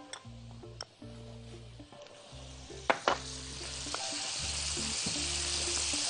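Butter sizzles and fries in a hot pot on the stove, a steady crackling hiss building louder over several seconds, with occasional clinks of a spoon or utensil against the pot.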